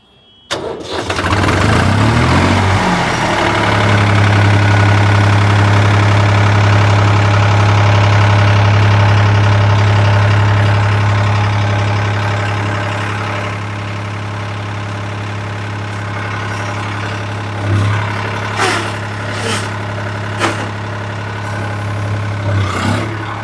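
A Swaraj 855 4x4 tractor with a shuttle gearbox cranks and fires, its engine swelling to a loud, deep running note before settling into a steady, lower idle with a few faint knocks and clatters late on.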